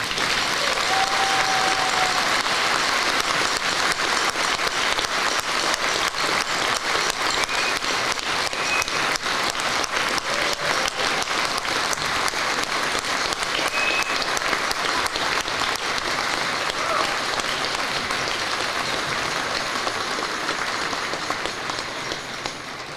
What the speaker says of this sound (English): Please give the Carmichael and Miller families a round of applause